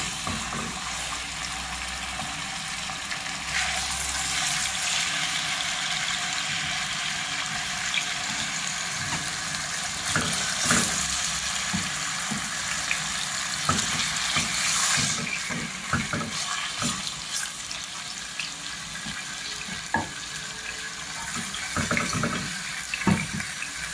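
Chicken frying in oil in a wok, a loud, continuous close sizzle that runs throughout, with scattered clicks and knocks of the pieces and utensils.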